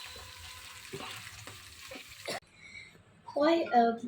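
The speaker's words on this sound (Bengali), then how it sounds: "এই যে দেখুন ভাজা হচ্ছে ইলিশ এবং সটকির ভর্তা" Hilsa fish sizzles and crackles as it fries in hot oil, with a brief voice cutting in near the end.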